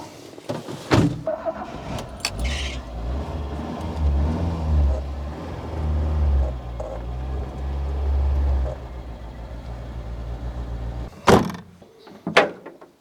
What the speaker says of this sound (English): It's not running on all. Misfiring a lot. And cuts out even.